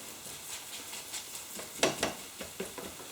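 A Spanish omelette with potato and chorizo cooks over low heat in a pan, giving a gentle sizzle broken by a few soft scraping pushes of a utensil around the edge, close and quiet with no voices.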